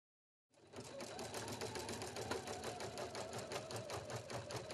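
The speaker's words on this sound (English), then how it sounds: "Touch start stop to continue embroidering." Husqvarna Viking Platinum Plus embroidery machine starts up after a moment of silence and stitches with a fast, even, close mechanical rhythm that continues to the end.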